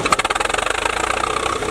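Large old American tractor engine running steadily right after starting, a loud, close, rhythmic thumping idle with fast even pulses throughout.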